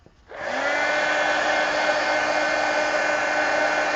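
A hair dryer switches on and blows steadily over a mixed media painting, a constant close whooshing hum with a high whine, running alone without talk.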